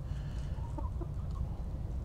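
Chickens, six laying hens and one rooster, cluck in short, scattered bursts in a coop over a steady low rumble of background noise, moderately close.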